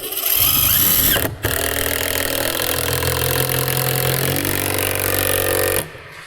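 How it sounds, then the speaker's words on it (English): A power drill whirs loudly, stops briefly, then runs steadily again for several seconds as it drives a screw into deck wood, pitch shifting slightly near the end. "I know that I can drive this one in here"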